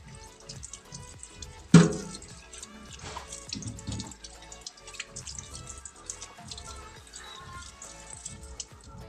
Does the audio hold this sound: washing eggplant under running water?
yes